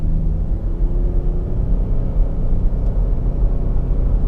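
Interior of a 2020 Lexus RX 450h hybrid while its engine runs, a muffled low rumble and hum, steady and moderately loud, with no distinct start burst or voices.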